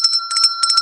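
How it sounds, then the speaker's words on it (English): A small hand bell rings close and loud, shaken in quick bursts of bright metallic dings with tiny pauses between clusters. "Ring my bell, my bell."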